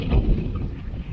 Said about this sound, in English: But it is way too windy.